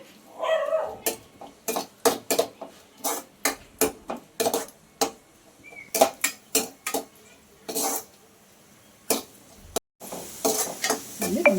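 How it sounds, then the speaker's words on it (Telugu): Raisins frying in ghee in a pan for dry fruit laddu: a quick series of close, rhythmic spoon-on-pan scrapes and taps over a light sizzle, with a brief pause near the end before the stirring resumes. "ద్రాక్ష ఇది కూడా వేసేసుకొని కొంచెం వేగిస్తాం."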